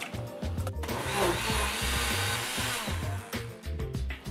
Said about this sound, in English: Get your blender ready, and in that, we're gonna mix our coconut milk, potato starch, sweet white rice flour, our truffle salt, and a block of silken tofu